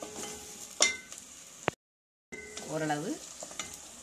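Chopped onions sautéing in a pan for an okra and potato poriyal, with a steady soft sizzle and stirring scrapes, a short silent break midway, and a brief spoken word.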